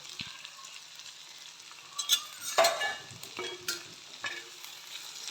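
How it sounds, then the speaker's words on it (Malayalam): Green chillies cooking in a pan with garlic-ginger paste and onions, a steady soft sizzle with intermittent scraping stirs of a utensil against the pan, close by and no voices. "എല്ലാം നല്ലോണം വഴറ്റിയെടുക്കുക."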